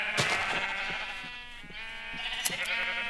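Sheep in a Minecraft game bleat repeatedly in short, nasal calls, several overlapping at moderate loudness over a steady tonal background.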